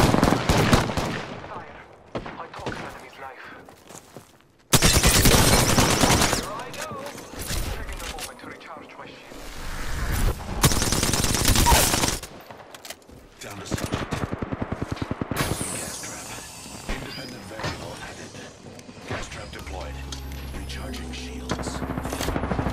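Gunfire in the PS4 Pro video game Apex Legends: loud bursts of automatic fire separated by quieter gaps, with game voices and scraping effects between volleys.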